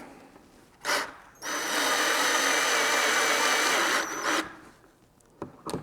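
A power driver screws bolts into a chair back bracket, with a short whir, then a sustained close high-pitched motor whine lasting about three seconds before stopping, and brief clicks around it.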